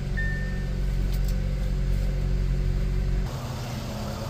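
A 2016 Hyundai Accent engine idles steadily after a battery replacement, a constant low hum with a faint high tone early on, which drops to a slightly lower, rougher drone near the end.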